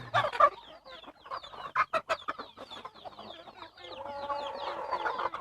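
Chickens cluck nearby in a series of short bursts, followed by a longer drawn-out call from a hen or rooster toward the end.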